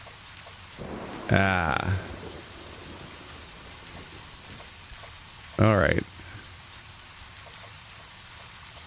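Steady rain falling in the game Deadly Premonition, a constant soft hiss running throughout, with someone speaking briefly twice over it.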